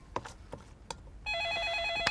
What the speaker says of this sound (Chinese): 你接电话呀？